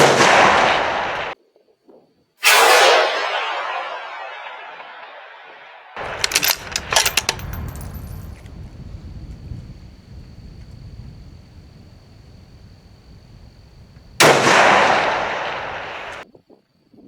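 A 27-pound 6GT rifle fired from a wobbly stool outdoors: a few loud, sharp gunshots with decaying echoes, separated by quiet gaps and softer handling noise.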